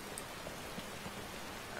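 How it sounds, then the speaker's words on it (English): Heavy rain falls in the game Skyrim, a steady, faint hiss of drops with no talking. "the rain's getting quite heavy"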